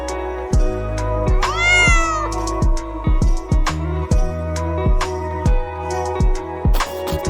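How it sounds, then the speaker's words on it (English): A cat meows clearly and repeatedly, with one long rising-and-falling meow standing out over a steady rhythmic musical backing of regular beats. "C for cat."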